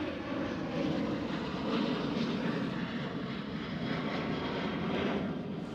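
A KLM Boeing 737 jet airliner at Amsterdam Schiphol, a continuous broad engine rumble heard from some distance, fairly steady in level throughout.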